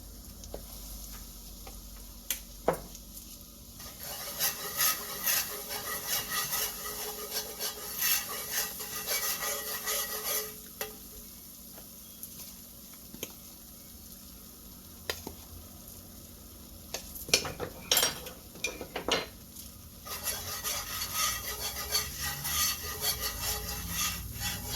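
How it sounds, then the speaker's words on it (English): Flour cooking in a pan for homemade gravy, quiet sizzling with repeated scraping and stirring strokes in bursts and pauses, close and soft. "I'm just cooking the raw flour taste out."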